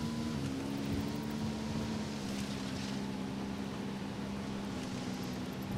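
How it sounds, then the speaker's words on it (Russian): A motorcycle ridden in Ghost Recon Wildlands gives a steady, droning engine hum that holds at an even pitch, with faint wind underneath and no voices. "Поехал я на мотоцикле."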